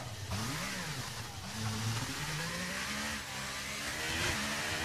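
Racing car engine revving in the F1 23 video game during the Las Vegas Grand Prix, a steady droning whine rising and falling in pitch with throttle changes, continuous and fairly loud throughout with no talk.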